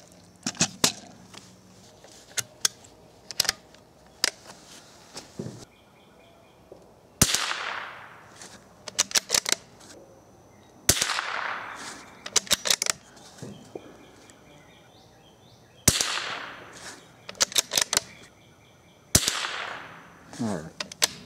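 Rifle fires .22 CB Short rounds at a paper target outdoors, a series of sharp, fairly quiet cracks in spaced clusters with pauses between them, birds faintly audible in the background.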